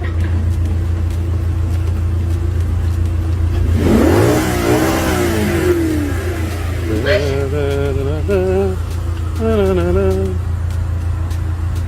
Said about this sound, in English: There are cars everywhere.